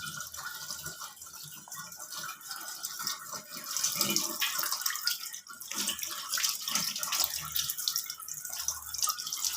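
Hot water from a tap fed by a Japanese instant geyser runs in a steady, splashing stream into a sink, close and continuous for several seconds.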